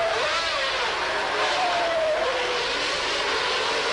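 Formula 1 cars from the 1992 season race past, a loud continuous high-pitched engine roar with a rising and falling whine as a car goes by. No voices are heard.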